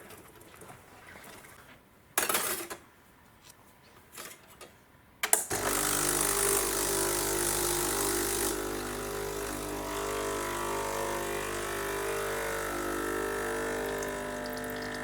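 A Breville Infuser espresso machine falls quiet, then gives a few short clunks and rattles. Its pump then starts and runs as a steady, loud, buzzing hum while coffee brews, with no talking.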